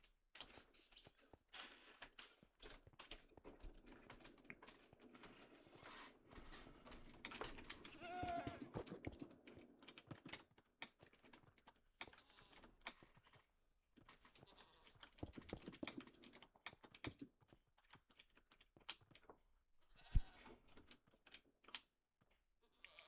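Goats in the Minecraft-style server CivCraft SMP, faint intermittent bleats among mountainous terrain, mixed with quiet keyboard and mouse clicking and soft game noise.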